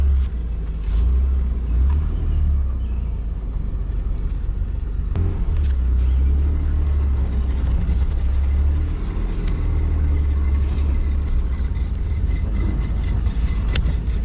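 A Nissan 300ZX convertible drives with the top off and windows down, its low engine rumble and road noise steady and loud throughout, with a rough drivetrain and no talking.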